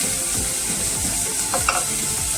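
Cauliflower sautéing and being stirred in a pan, with a steady close sizzle and scraping stirs every half second or so, no talk.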